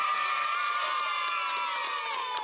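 A crowd of children cheers and shouts loudly together, a dense, continuous wash of high voices with bursts of clapping and whoops close by.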